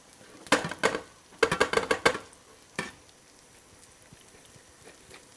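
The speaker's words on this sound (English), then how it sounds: "Remove the lid and drain it well." Water splashes and drips as cooked kale is drained from a pot, with a few bursts of pouring and spattering that fade into quiet dripping. No one speaks.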